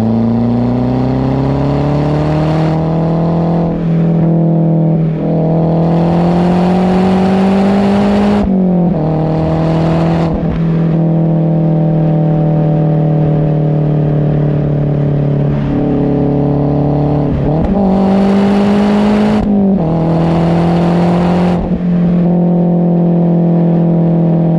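Turbocharged 2008 Mazdaspeed 3 with a bigger turbo and intercooler, engine revved repeatedly in loud close bursts, pitch climbing and dropping between throttle blips over a steady idle, no talk.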